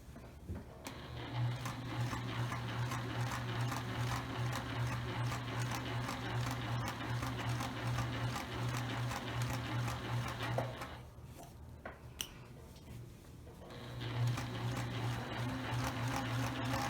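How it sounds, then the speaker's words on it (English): A sewing machine stitches a fabric pillowcase with a steady rapid mechanical whir and clatter close by, pausing briefly near the end before running again, no voices. "And we are going to take it to the sewing machine."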